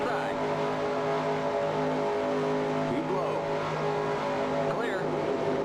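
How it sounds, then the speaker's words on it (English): Race car engines drone steadily in the NASCAR Racing 2003 video game at Daytona, with several cars' high sustained tones overlapping and shifting pitch as they pass, constant and loud throughout. "Slow car on the inside, that's going to scrub off a load of speed."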